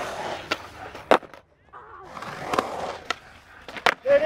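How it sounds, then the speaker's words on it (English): Skateboard wheels rolling across concrete as a skater launches over a gap into a bank, steady grinding roar broken by sharp board slaps and landing cracks, close and loud with brief quiet gaps. "You can hear this gap into the bank."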